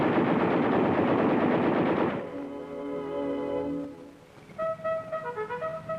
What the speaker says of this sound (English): A computerized fire control system brings the full fury of the tank's guns on any target